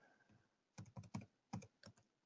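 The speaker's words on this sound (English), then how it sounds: "I was typing too quick." Quick bursts of typing on a computer keyboard, about six close clusters of clicks with short pauses between, alone and fairly quiet.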